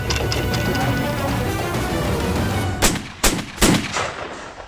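Musket fire in a seventeenth-century Roundhead battle setting: three loud, sharp shots in quick succession follow a stretch of dense, rumbling background noise.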